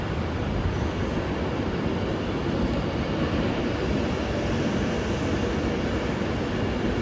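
A Class 390 Pendolino electric train, unit 390-122, departs Carlisle station in bad weather, giving a steady loud rushing roar that stays constant throughout and masks everything else.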